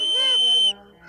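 A magic whistle in a Smurfs cartoon gives one loud, steady, high-pitched tone lasting under a second, then cuts off abruptly into quieter background sound.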